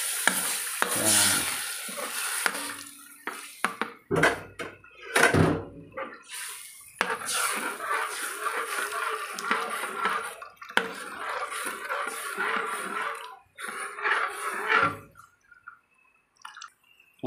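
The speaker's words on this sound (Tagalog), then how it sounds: "ilagay natin ang pangalawang gata or pangalawang piga ng gata" Second-press coconut milk pours into a pot of simmering laing, with bursts of liquid splashing and stirring, short pauses between pours, and a brief spoken word.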